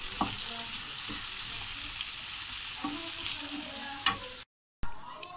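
Diced potatoes sauté in an oiled pan for potato eggs with a steady close sizzle and occasional scraping stirs, then a brief dropout and the sizzle resumes.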